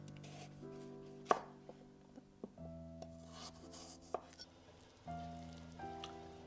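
A knife cutting carrots in half for Vietnamese beef pho, a few distinct chopping knocks on a board spread across the clip, close and fairly quiet, with a steady tonal hum underneath.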